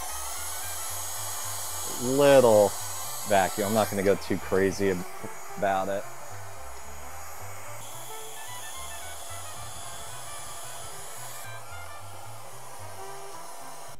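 A small vacuum cleaner runs steadily, sucking dust off a dehumidifier in a home, its even whirring hiss continuing throughout while a person talks briefly partway through.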